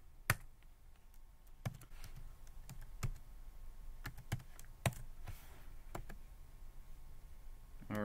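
Keys tapped on a computer keyboard to enter a password, a sparse run of crisp clicks at an irregular pace, with a louder cluster near the start and the end over a quiet room hum.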